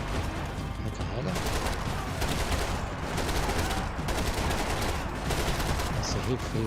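Gunfire in the PC shooter Max Payne 3, rapid repeated shots and bursts layered over a loud, busy game soundtrack with continuous action noise throughout.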